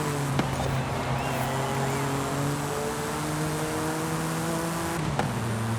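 A 1987 Buick Grand National GNX in Forza Horizon 5 cruising at speed, its engine a steady, loud droning hum with brief shifts in pitch as it moves through the gears, heard alone.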